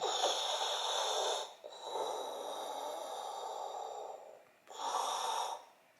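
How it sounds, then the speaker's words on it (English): Slow, deep breaths drawn in through the nose, close and clearly audible, come in three long inhalations separated by brief pauses. "you breathe in."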